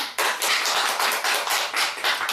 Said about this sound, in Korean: 우리 박수하죠.